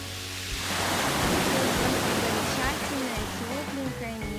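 Sea waves wash ashore in a broad rushing surge that swells and slowly recedes, loud and close, while voices are heard faintly at the start and near the end.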